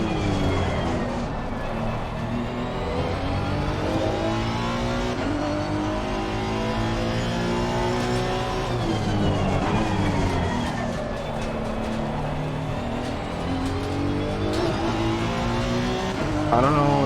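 A race car engine in a racing video game howls steadily along a straightaway, chasing a BMW, with rising and falling rev sweeps and gear changes, loud and continuous with no talk over it.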